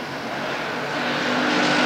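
NASCAR bomber stock cars race on the Ascot Speedway oval in 1988, their engines making a loud sustained roar that builds slightly as they head into the turn.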